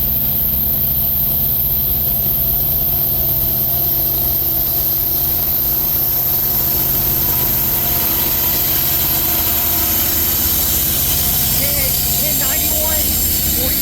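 A freight train hauled by Norfolk Southern and CEFX AC4400CW diesel locomotives rumbles past, a loud, continuous engine roar with a broad wash of noise that swells toward the end, and no talking.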